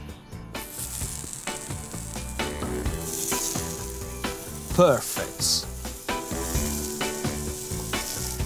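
Carrots with olive oil and salt sizzling on a hot griddle pan, a loud continuous close sizzle with crackles and clinks of handling, while someone says a brief word partway through.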